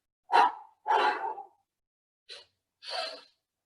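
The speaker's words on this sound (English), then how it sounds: "double inhale" Sharp, quick breaths from a double inhale breathing exercise, heard as four short bursts of air in two rough pairs separated by silence, close and fairly loud.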